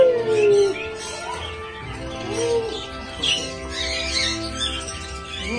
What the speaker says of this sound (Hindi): बहुत प्यारे तोते हैं जी